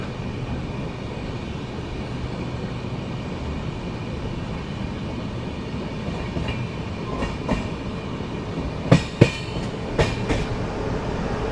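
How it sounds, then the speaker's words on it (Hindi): The Navjeevan Express pulls away from a station platform in a steady, rumbling rolling noise with faint clacks and a few sharp metallic squeaks and clicks near the end, heard from close by. "अभी देखो वापस से वो डिपार्चर ले रही है यहाँ से"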